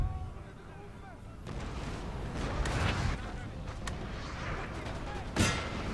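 Several deep booming cannon shots ring out at uneven intervals over a busy Napoleon: Total War battle soundscape, with voices talking underneath.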